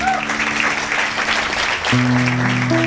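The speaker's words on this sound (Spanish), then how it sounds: "¿Se anima a darle un aplauso al Rey de Reyes?" Church congregation applauding during a worship service, a sustained burst of clapping with sustained organ or keyboard notes sounding underneath and rising near the end.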